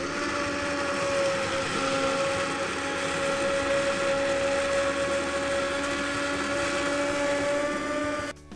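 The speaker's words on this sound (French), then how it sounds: "Allez, c'est parti, donc on va mixer" A blender puréeing split pea soup, a steady loud motor whir running continuously close up and cutting off at the end.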